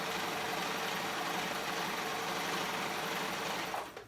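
A sewing machine stitching a zigzag on swimsuit fabric, a fast continuous whirring hum with a rapid regular needle beat, close and steady, stopping just before the end.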